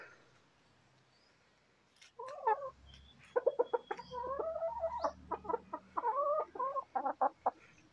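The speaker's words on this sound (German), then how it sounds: "Seidenhuhn-Hahn" Silkie chickens clucking and calling close by at feeding time, a busy run of short repeated clucks and squawks after a quiet start, with no talking.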